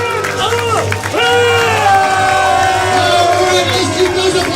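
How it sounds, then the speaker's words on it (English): A live event crowd claps and cheers loudly and continuously, a dense wash of applause and whoops with a voice ringing over it. "let's keep those applause going"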